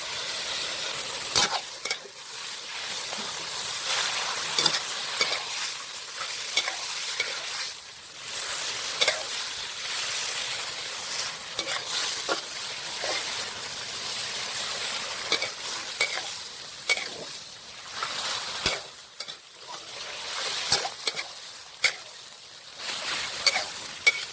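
Sliced ginger and wood ear mushrooms stir-fry in a hot pan for Thai ginger-fried tilapia, giving a steady close sizzle broken by repeated scraping and tossing strokes, with no talking.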